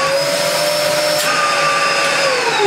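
A 1996 Dyson DC02 Breakthrough (Antarctica Solo) vacuum cleaner runs with strong suction and no filters fitted. It gives a steady, loud motor whine whose tone shifts slightly partway through, with no voices heard.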